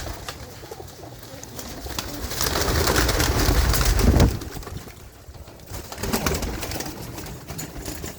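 Pigeons in a racing pigeon loft coo in a dense, soft murmuring chorus close by, swelling louder for a few seconds before easing back, with no talking over it.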